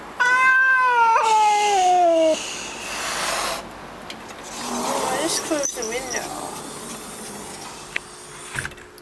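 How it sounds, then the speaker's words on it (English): A cat meows loudly with a long, rising yowl of distress at another cat outside the window, then the room falls quieter with faint rustling and small clicks while a person talks softly. "That was another cat."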